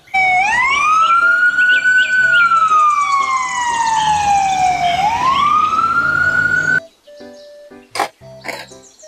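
A toy ambulance siren wails loud and close in a long rising and falling electronic tone, then cuts off, followed by faint clicks and handling sounds.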